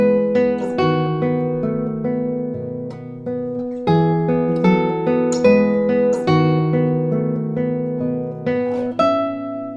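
Classical guitar playing Tárrega's Lagrima, with plucked notes ringing one after another and occasional short scrapes as fingers slide along the strings during position shifts; close and alone, no talking.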